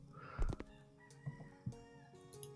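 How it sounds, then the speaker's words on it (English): A cockerel crows faintly in the background, a few short calls with clucking-like bursts against a quiet room. "I think I can hear a cockerel every so often"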